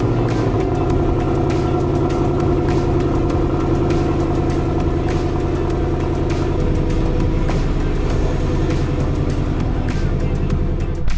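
A 2024 Ford Mustang GT V8 idling after a cold start gives a loud, steady, deep throbbing rumble that holds evenly, close by and alone, with no talk over it.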